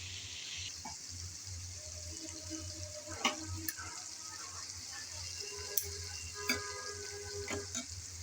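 Spiced pointed gourd (potol) frying in a pan gives a steady, quiet sizzle, broken by a few stirring knocks and scrapes, with faint tonal kitchen sounds in the background.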